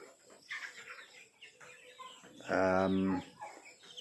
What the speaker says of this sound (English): The chickens are fed.